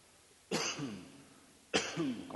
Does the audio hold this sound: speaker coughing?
yes